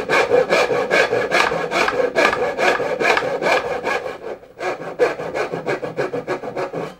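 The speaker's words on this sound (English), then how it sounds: "The main thing is to make sure that the saw is square across the job." A hand saw cuts wood for a dovetail joint, its steady back-and-forth strokes rasping loudly and close up, with a brief pause midway before the sawing resumes.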